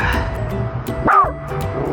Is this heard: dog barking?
yes